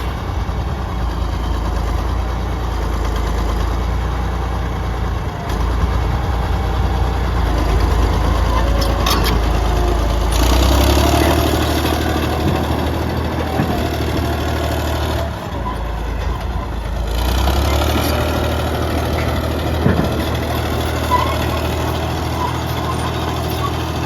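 A Cat D6 D bulldozer engine with a tap motor idles and runs steadily, a loud continuous low rumble that holds throughout with slight shifts in load, close by and without speech.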